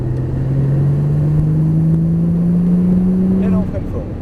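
A Porsche GT3 Turbo sports car engine accelerates on a cone-marked track, its steady drone rising gradually in pitch as it pulls, loud and close, before easing off at the end.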